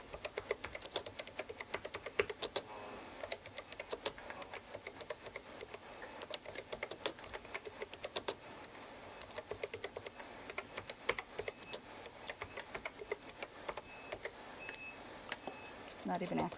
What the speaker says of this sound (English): Just backspace out of that sentence and retype it.